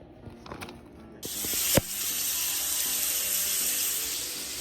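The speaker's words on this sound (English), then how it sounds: "Sizzle." A sudden loud hiss starts after a few faint clicks and holds steady, like food hitting a hot pan and sizzling close by.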